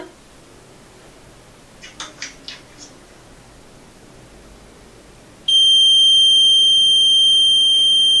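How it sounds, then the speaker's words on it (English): A few quick faint chirps, then a REM pod ghost detector's loud, sustained high-pitched electronic beep starts abruptly and holds steady to the end. "The little ball that's placed next to the REM pod that's beeping."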